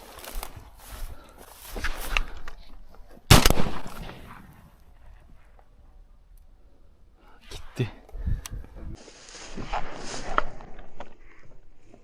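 A single sharp shotgun blast while hunting thrushes cracks out loudly in the middle of the recording, with quiet outdoor rustling, footsteps and faint movement before and after.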